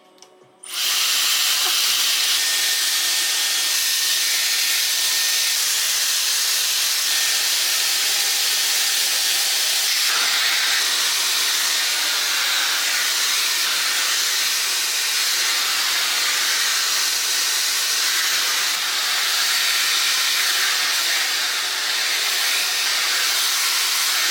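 A hair dryer with a diffuser attached gives a steady, loud blowing whir that runs continuously after a brief start, with a constant airy hiss and no pauses, held close.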